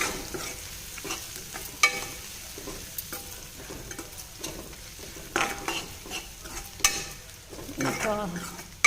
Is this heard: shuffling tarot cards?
no